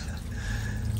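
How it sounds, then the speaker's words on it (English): Water poured into a garden waterfall makes a steady trickling, splashing wash, close and constant for the whole moment outdoors in hot weather. "Got to make sure I add some water to my waterfall"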